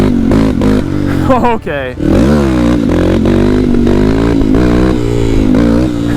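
A budget dual sport motorcycle with a power upgrade revs hard at full throttle, its engine note climbing and falling in loud sweeps, with someone talking over it.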